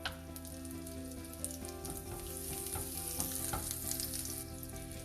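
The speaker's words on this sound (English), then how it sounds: "Now the butter is melted." Butter sizzles and crackles steadily in a heated pan while cooking for a mushroom curry, a close, continuous frying hiss with occasional stirring scrapes and no talk.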